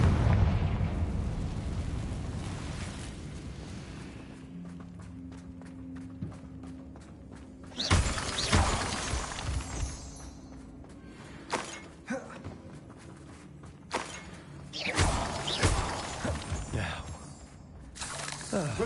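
Confringo explosion spells from a Harry Potter video game, several loud bursts with crackling, shattering debris at irregular intervals over a low ambient game background.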